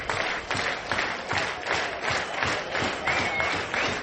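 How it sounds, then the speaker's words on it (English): College baseball crowd at a Louisville vs Miami Super Regional game doing the rhythmic two-strike clap, steady synchronized claps repeating about twice per second from a large stadium crowd. "Fans of the 2-strike clap"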